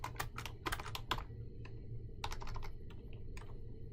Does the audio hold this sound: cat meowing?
no